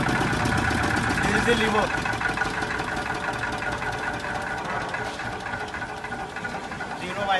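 A 10 kVA generator set runs continuously with a steady mechanical engine drone and rattling hum, close and constant, while a person speaks briefly over it.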